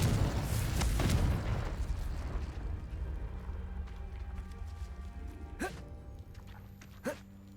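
A Confringo explosion spell in Hogwarts Legacy bursts with a loud, rumbling blast that decays over several seconds, followed by two smaller sharp pops.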